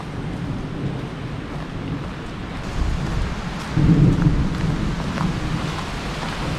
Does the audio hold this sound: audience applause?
no